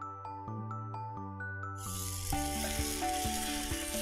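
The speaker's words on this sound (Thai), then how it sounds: "กระทะก็ร้อนนะครับเดี๋ยวเรามาหยอดกันเลยครับ" Takoyaki batter is ladled into a hot takoyaki pan and breaks into a steady, close hissing sizzle that rises midway and continues over background music.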